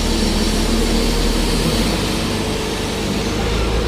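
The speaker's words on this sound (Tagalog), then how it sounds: "So sa isang truck, mga dalawa lang na dakot ng wheel loader sa truck." A wheel loader works at a port, scooping road salt into a waiting truck, a loud continuous heavy engine drone with broadband rumble holding steady throughout, no talk over it.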